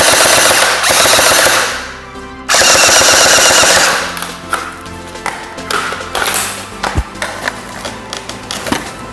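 An M416 HK416 water gel blaster toy gun fires rapidly, producing loud, dense mechanical bursts of fast clattering shots that stop briefly and start again, then break into scattered clicks and knocks.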